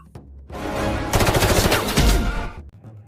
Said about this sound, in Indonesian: Hugo yang sadar bahwa anak buahnya telah dihabisi John satu persatu, kemudian mengikuti John dan berhasil menembak punggung John.